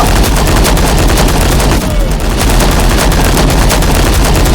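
Dense, continuous video-game gunfire fills the whole stretch, loud and steady with a brief dip near the middle, like sustained automatic fire from many guns at once.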